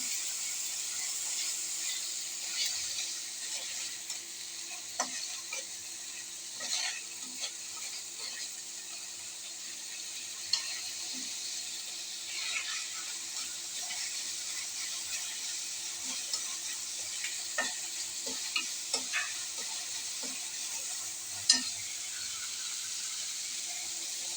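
Spice masala for a fish curry fries in a pan while being stirred, a steady close hiss of sizzling oil with scattered small clicks and scrapes throughout, no voices.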